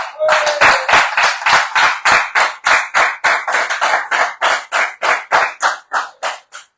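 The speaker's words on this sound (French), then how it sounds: "Tous les vendredis soirs, on les applaudit pour leur donner du courage." A small group claps on a bistro terrace on a Friday evening, loud close rhythmic hand claps in a steady beat of about three per second, slowing slightly and thinning toward the end.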